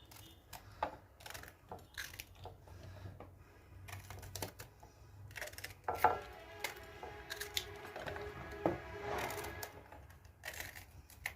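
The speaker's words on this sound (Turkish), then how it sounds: "Evet biberlerimizi doğradık" Rapid, irregular knife taps on a cutting board, chopping hot and mixed peppers steadily at close range with light clatter and no talking.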